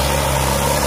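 A 120 hp tractor engine pulling two 34-disc harrows gives a steady, loud, close drone with a constant low hum and no talk.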